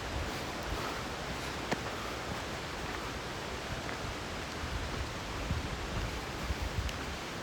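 Rushing creek water near Crystal Creek waterfall in Shasta-Trinity National Forest, California: a steady, dense broadband roar that stays even throughout, close and continuous, with no voices.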